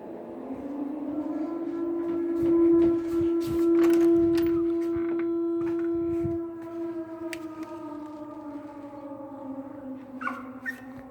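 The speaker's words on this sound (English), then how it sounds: "Just a loud blaring like siren or something" A loud, sustained siren-like blare carries through the woods, a steady droning tone holding for several seconds and then slowly fading and sliding lower, with faint rustling and background noise.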